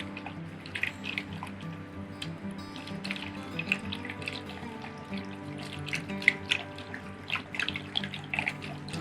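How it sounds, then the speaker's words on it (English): Liquid sloshes and splashes inside a jug of preservative-free apple juice as it is shaken to mix in yeast for hard cider, a steady close, moderately quiet watery churning with small drips, no talking. "I'm just going to kind of stir that up a little bit, shake it up. Get the yeast all good and mixed in with that juice."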